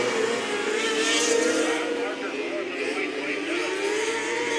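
HART micro sprint race cars roar around the dirt oval at US 24 Speedway at night, a loud, steady engine drone with shifting pitch as cars pass, under a race announcer's commentary.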